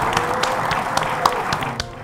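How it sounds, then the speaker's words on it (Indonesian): An audience gives a short burst of sparse hand claps, several distinct claps in a loose rhythm over a background murmur, trailing off quickly. "Kita kasih tepuk tangan ya."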